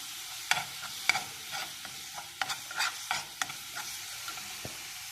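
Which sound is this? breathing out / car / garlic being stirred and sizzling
garlic being stirred and sizzling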